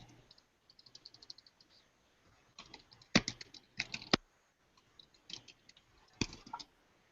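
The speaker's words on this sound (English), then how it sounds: "I hear so much typing." Quiet clicking keystrokes on a computer keyboard during a live online show, with scattered bursts of rapid typing and pauses between them, close to the microphone and heard without talking.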